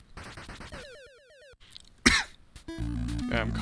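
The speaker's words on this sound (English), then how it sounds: "Yeah, I'm coughing again." A person coughs sharply once or twice, close and loud, amid chiptune music and sound effects from the NES game Cobra Triangle.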